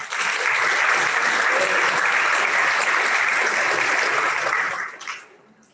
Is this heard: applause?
yes